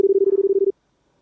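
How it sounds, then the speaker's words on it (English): A Japanese telephone ring: a rapid, pulsing electronic warble of about a dozen quick beats in under a second, loud and close, then cutting off into silence. "Have you heard of Japanese phone ringing sound?"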